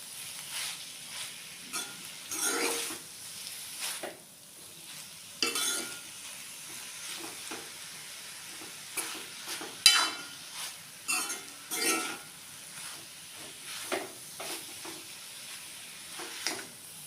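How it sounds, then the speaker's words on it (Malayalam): Snake gourd tossed with grated coconut in a pan, with quiet sizzling under intermittent scraping and clinking stir strokes of a spatula, close and alone. "തേങ്ങയുടെ ആ ഒരു പച്ചപ്പ് ഒന്ന് മാറുന്ന വരെ നമ്മളൊന്ന് ഇളക്കി കൊടുക്കണം"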